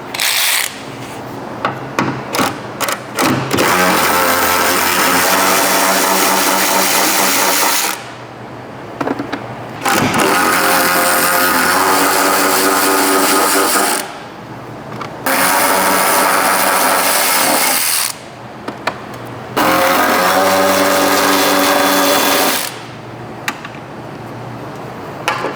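A power tool drives a 13mm socket on the bolts of a wrecked 2021 Ford F-150, running in several loud bursts of a few seconds each, separated by short pauses and clicks.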